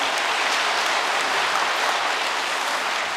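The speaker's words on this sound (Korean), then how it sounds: "다시 한번 우리 참 부모님께 감사의 큰 박수 부탁드리겠습니다." Large congregation applauding at a New Year's Day prayer service in Cheongpyeong, a steady dense wash of clapping that fills the whole stretch without a voice over it.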